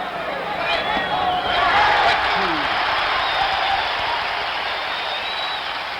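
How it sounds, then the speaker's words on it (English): A packed baseball stadium crowd roars and cheers after a game-tying three-run home run in Game 6 of the 1975 World Series, Reds versus Red Sox at Fenway, the broad sustained roar filling the space with no talk over it. "And this crowd, a crowd that was spent, has come to life."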